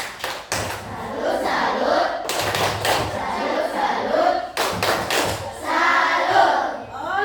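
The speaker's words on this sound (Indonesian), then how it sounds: "Tepuk salut." A group performs the rhythmic tepuk salut salute clap, sharp unison claps in bursts separated by loud chanted shouts from the crowd, close and energetic.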